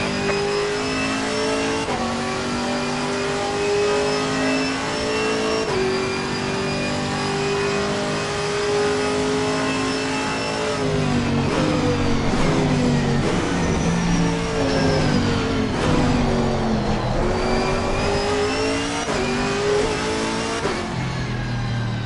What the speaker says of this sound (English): Faster car coming up behind.